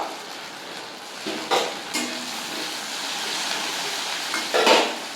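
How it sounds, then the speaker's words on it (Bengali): Onions frying in a pan as ginger, garlic and green chilli paste is added, a steady soft sizzle with a few brief louder stirring scrapes and bursts, no talk. "এবার আমি যেটা পেস্ট করে রেখেছি আদা রসুন আর কাঁচা লঙ্কা ওগুলো আমি দিয়ে দেবো"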